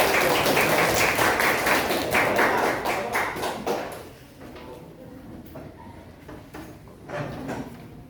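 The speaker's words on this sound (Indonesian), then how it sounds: "kalau sudah siap kasih tepuk tangan dulu" A classroom of students claps together for a group presentation, a dense burst of loud applause that thins out and fades over several seconds and ends with a few scattered claps.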